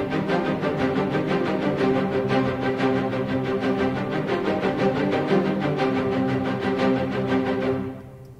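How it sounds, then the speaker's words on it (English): Cinematic Studio Strings spiccato samples played in Cubase: a driving ostinato of short, rapid bowed string notes in an even rhythm, full and loud, fading out at the end with no talking. "This is Cinematic Studio Strings, the spiccato."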